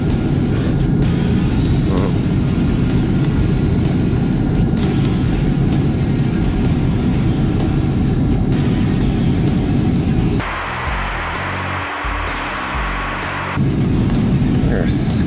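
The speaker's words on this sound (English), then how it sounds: "Okay, we are coming in for landing." Loud, continuous roar from inside a Lufthansa airliner on its landing approach, with a broad cabin rumble that briefly shifts and thins near the end, and a voice talking over it.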